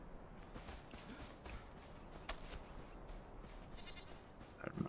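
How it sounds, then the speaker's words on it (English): Faint sheep bleats in the video game Enshrouded come through a few times at a distance over a steady background of ambient noise and soft footsteps. "I heard a sheep."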